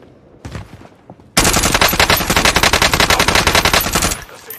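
Rapid automatic gunfire in the Call of Duty Rebirth video game: a short shot, then one loud continuous burst of closely spaced rounds lasting nearly three seconds before stopping abruptly, with no talking.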